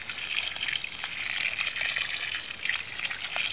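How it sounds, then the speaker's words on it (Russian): Water poured generously over freshly dug soil for juniper cuttings, a steady close trickling and gushing stream with soft splashes as it soaks into the earth, no talking. "Хорошо заливаем водой, чтобы она пропиталась."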